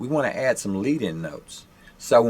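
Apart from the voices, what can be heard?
None of the usual background noises is heard.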